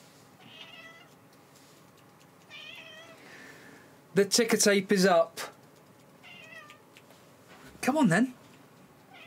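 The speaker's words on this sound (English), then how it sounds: "The cat wants to come on" A cat meows several times indoors, thin mewing calls at first and then louder, drawn-out insistent meows, mixed with someone talking softly nearby.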